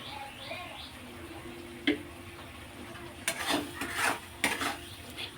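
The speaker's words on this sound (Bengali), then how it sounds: "মশলাটাকে খুব ভালো করে কষে নিতে হবে" Spice paste with salt and coriander powder is stir-fried in a pan for a meat-and-vegetable dish. Quiet, low sizzling gives way to a few spaced spatula clinks and louder scraping bursts in the second half.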